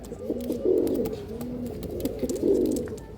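A male pigeon coos nearby in a low, throaty rhythm, two rounded bursts of cooing rising and fading over a soft background.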